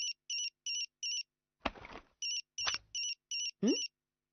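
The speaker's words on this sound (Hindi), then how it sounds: "आपका फोन बज रहा है दीदी।" Phone ringtone in a Shinchan cartoon, with a repeating electronic tone pulsing in short even beeps, interrupted by brief cartoon voices speaking between the rings.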